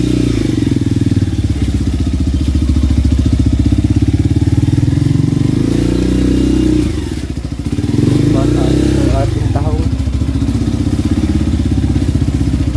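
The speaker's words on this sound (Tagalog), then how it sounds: "Ayan dala natin ating motor." A motorcycle engine runs steadily and loudly up close, a low throbbing drone that dips briefly before picking back up, with some clatter and a faint voice over it.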